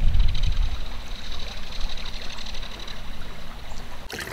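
Steady river water rushing and lapping around a kayak on a stretch of river during bass fishing prefishing, a continuous broadband wash with a low rumble, no talk.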